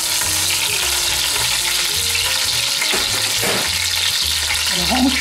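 Stuffed squid browns in olive oil in a hot pan, giving a loud continuous sizzle and crackle with occasional stirring scrapes throughout.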